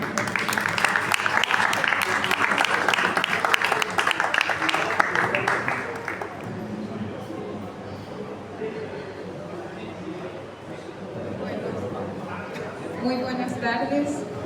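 Audience at a literary reading event applauding loudly for about six seconds, then the clapping fades and people talk.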